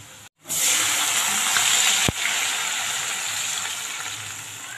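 Water poured into a hot frying pan while making upma bursts into a loud, steady sizzle after a brief silence, with a sharp click midway, then a slowly easing hiss with no talking.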